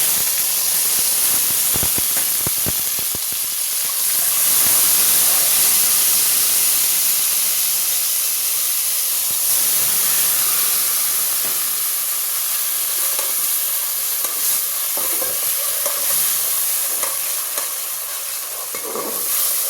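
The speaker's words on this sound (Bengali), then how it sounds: "আমি এটা খুব করে সটে করে নিব" Turmeric, garlic paste and ginger paste sauté in plenty of hot oil for a bottle gourd curry with a loud continuous hissing sizzle, scraping stirs heard now and then, close with no voices.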